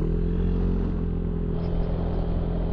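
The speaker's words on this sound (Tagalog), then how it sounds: "may motor dumadaan dun sa tulay oh." A motorcycle engine rumbles steadily and fairly loud as the bike crosses a bridge over a river in Zambales, its drone continuous with no voices.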